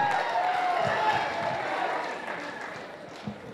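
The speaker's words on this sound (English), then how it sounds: "Give him a round of applause" Short burst of audience applause for a piano player at a school pageant show, dense clapping and crowd noise fading slightly over a few seconds.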